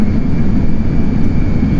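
A simulated F-14 Tomcat jet roars loud and steady during a carrier launch in Microsoft Flight Simulator X, a constant dense engine rumble with no breaks and no voices.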